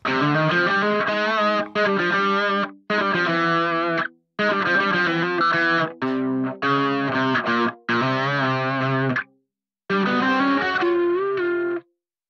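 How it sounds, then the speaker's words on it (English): A Headrush Prime guitar tone, with a saw synth pad layered faintly beneath, plays distorted sustained chords in a string of phrases. Short silent gaps separate them, and the pad stays barely noticeable under the guitar. "You can just barely hear the synth underneath the guitar tone"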